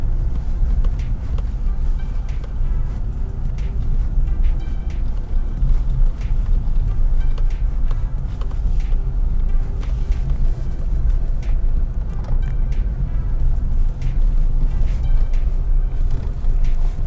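A car rumbles steadily over a bumpy rural road in Manchester, Jamaica, with constant low engine and road noise and frequent small knocks and jolts from the uneven surface.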